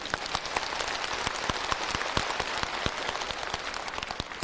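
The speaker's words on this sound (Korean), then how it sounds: "일단 리브가 위해서 박수 좀 한번 쳐놔봐." A church congregation at a Korean revival meeting claps together, a dense steady patter of many hands with sharper individual claps standing out, filling the whole stretch at moderate loudness.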